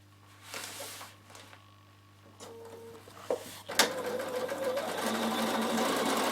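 A sewing machine stitches out to the corner of a fabric travel pouch, starting after a few clicks and fabric handling, then running steadily and closely to the end.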